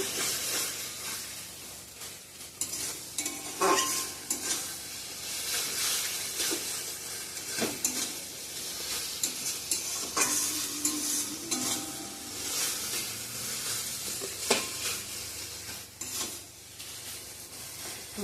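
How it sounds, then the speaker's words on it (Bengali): Taro leaves stir-fried in a pan, a steady close sizzle and hiss with scraping stirs of a spatula recurring throughout, no voices. "এই যে আমার কচু শাকটা রেডি হয়ে গেছে ভালো করে কষিয়ে নিচ্ছি"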